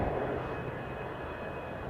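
A jet airliner approaching to land at an airport, heard by a plane spotter as a steady, moderately loud engine roar and whine from a distance, with no talk.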